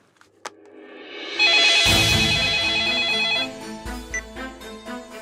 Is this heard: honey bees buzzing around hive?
no